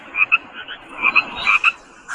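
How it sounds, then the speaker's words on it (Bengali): Frogs croak in quick rhythmic pulses, several short bursts in a row, clear against a quiet night background. "ব্যাঙের ডাক ভেসে আসছে বাইরে থেকে"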